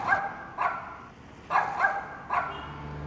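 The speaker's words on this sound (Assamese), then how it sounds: "কুকুৰৰ ভুক ভুকনি শুনিবলৈ পালে" A small puppy stuck inside a car's engine barks in short sharp yaps, four or five separate barks spaced unevenly, muffled but clear and fairly close.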